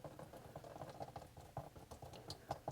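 Water drains from an unscrewed sink P-trap into a plastic container below, making faint irregular trickles and drips close by, with no talking.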